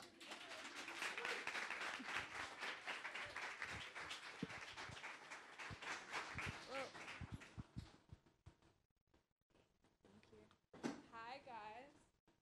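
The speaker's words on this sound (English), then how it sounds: "You can clap now." Audience at a youth arts talk in a museum clapping for several seconds, a scattered patter that fades out, followed by quieter room sounds and a voice starting up near the end.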